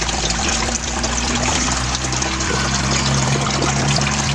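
Water trickling steadily from an aquarium tank into a DIY filter, a continuous close splashing and dribbling stream with a low pump-like hum underneath, no talking.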